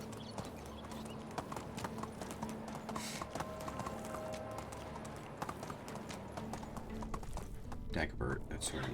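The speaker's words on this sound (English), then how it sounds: "Yeah, definitely need to get the horses in the stable." Horse hooves clip-clop steadily in the medieval village game Medieval Dynasty, a continuous mid-level trot running under a voice talking with music beneath.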